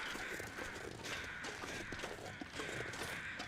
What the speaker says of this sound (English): Just follow the sound of birds pecking at the poor bastards who are still there.